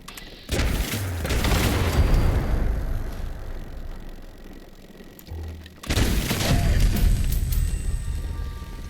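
Two heavy grenade blasts in Fallout 76, each a sudden loud boom with a long rumbling roar that slowly fades, the second arriving several seconds after the first, with no talk.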